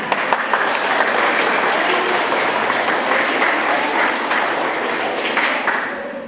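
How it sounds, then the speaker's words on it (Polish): At a school ceremony for National Education Day and the first-year pupils' pledge, the gathered audience gives long, even applause, thick with many clapping hands, tapering only slightly at the end. "To zasługuje rzeczywiście na wielkie brawa."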